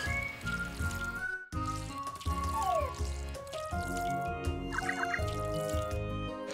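Gentle dripping and trickling water sounds from watering crops in the farming game Story of Seasons: Friends of Mineral Town, layered over bright, melodic background music.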